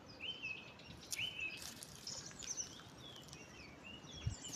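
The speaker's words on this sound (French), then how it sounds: "Écoutez la prière des oiseaux." Several birds chirp and sing outdoors in short high tweets scattered across the moment, fairly faint against a soft wash of background noise, with no voices.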